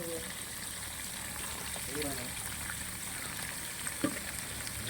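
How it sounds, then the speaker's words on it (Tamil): Mint leaves and onion dropped into hot oil for a homemade biryani, giving a steady soft sizzle and frying hiss throughout, with a faint stir or clink near the end. "புதினாவை போட்டு வெங்காயத்தை போடுறோம்."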